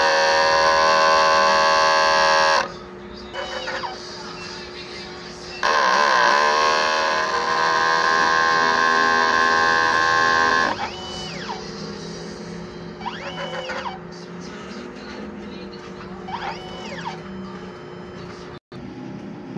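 A 30 cm DTF printer runs a head cleaning cycle, a steady electric hum and whine that drops and returns in stages, with brief pump pulses and a voice talking quietly in between.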